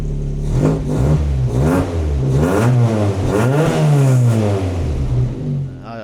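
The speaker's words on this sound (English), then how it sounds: "The car sounds mint and actually sounds quite throaty" Rebuilt race car engine revving hard and throaty up close, several rising and falling blips over a rough idle, loud and alone.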